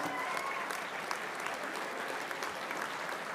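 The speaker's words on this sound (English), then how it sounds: "Big round of applause." Steady, continuous applause from a convocation audience at a spring graduation ceremony, fairly faint and distant, holding an even level throughout.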